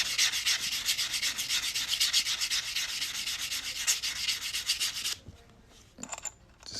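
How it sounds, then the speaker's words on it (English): Cut edges of a coin ring made from a quarter are sanded by hand, a close, rough, rapid scratching rub lasting about five seconds before stopping, followed by a few faint clicks. "I'm just sanding up these cut edges real quick, and it's kind of a rough sound"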